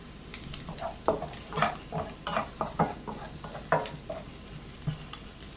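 A spoon scrapes and stirs butter garlic egg fried rice in a pan in irregular strokes, with soft sizzling underneath, close and moderately loud.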